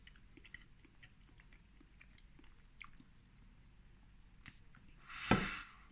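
Instant mashed potato from a liver and onions ready meal is chewed during a taste test, soft quiet mouth sounds ending in a louder, brief close bite or squelch.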